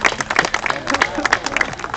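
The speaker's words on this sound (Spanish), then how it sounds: "Yo daría un aplauso" Guests at a church wedding ceremony clap together in a brisk, dense burst, close and fairly loud, with a faint voice mixed in.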